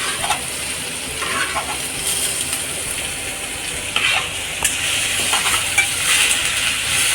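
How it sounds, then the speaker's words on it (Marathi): Sliced capsicum sautés in a hot pan for Hakka noodles, giving a steady loud sizzle with occasional metallic scraping and stirring clinks throughout. "शिमलाला पण छान परतून घ्यायचं."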